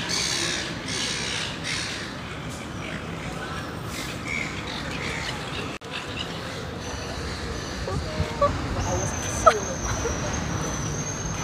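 A crowd of seagulls squawks and caws in noisy bursts around an outdoor spot, the calls coming from near and far over steady background noise and the occasional passing car.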